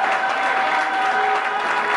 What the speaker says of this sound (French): Applaudissez d'abord pour les camarades